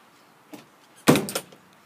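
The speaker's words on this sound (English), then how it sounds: "Can you close that door, Chris, please?" A trailer door is swung shut with a single loud bang and brief rattle, preceded by a faint scrape, close by with no talking.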